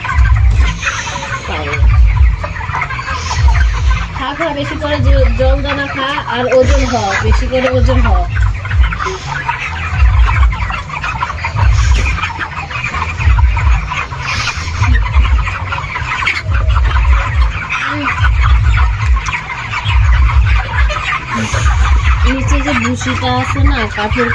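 A crowded flock of chickens at a poultry farm clucks and squawks continuously and close by, with a person talking at times over the birds.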